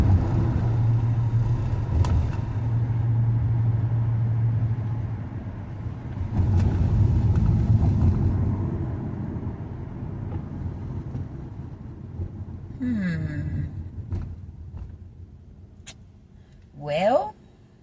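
A car ride: low, steady engine and road rumble heard from inside the car, swelling and easing, with a person talking over it and a few brief higher-pitched squeaks near the end.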